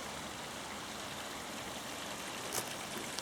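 A stream gurgles beside a steep hillside path near Bamford, a soft, continuous low wash of water heard alone from a short distance.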